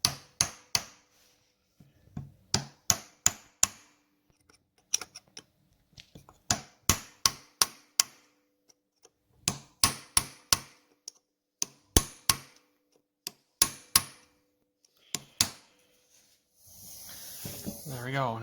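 A hammer strikes a chisel wedged into a Harley-Davidson big twin 4-speed transmission part, sharp metallic blows in quick clusters of three or four with pauses, close and loud, ending in a hissing spray.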